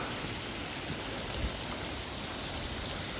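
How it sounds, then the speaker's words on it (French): Water runs and drips steadily off moss in a rocky gorge, a close, continuous hiss like light rain or a small stream, even and unbroken throughout with no voices. "Vous voyez, il pleut pas, mais ça coule."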